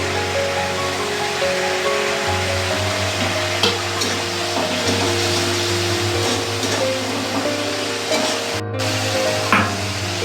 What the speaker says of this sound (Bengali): এরপর রসুন ও আদার পেস্টটা দিয়ে দিচ্ছি।